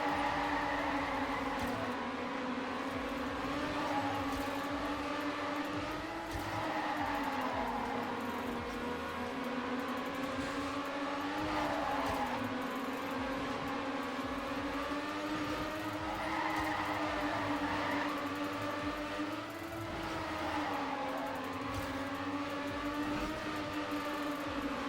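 A race car engine in a racing video game drones steadily while overtaking, its pitch rising and falling with gear changes and throttle, loud and continuous throughout.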